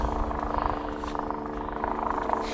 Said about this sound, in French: si jamais un jour vous avez un hélico qui vient sur un secours ou sur lequel vous êtes